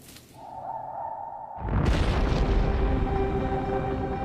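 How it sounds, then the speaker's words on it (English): A volcano erupting starts as a low hum, then a sudden deep rumbling roar swells up and holds loud and continuous, with a whooshing, booming quality. "Volcanoes become more active, spewing out poisonous gases and clouds of dust"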